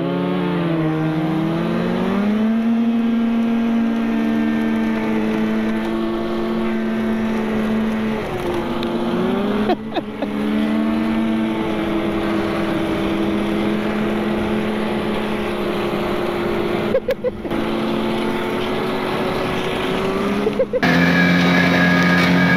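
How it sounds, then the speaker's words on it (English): Snowmobile engines rev steadily and climb in pitch during an informal drag race on thin ice with no snow, making a sustained loud buzzing drone with a few brief breaks. "a little drag race here"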